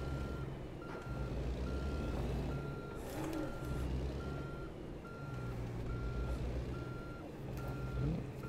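A Kenworth T800 truck in American Truck Simulator parks with a short rear-steer trailer, its reversing alarm beeping in a steady repeating rhythm over a low engine idle, with faint hiss and an air brake near the end.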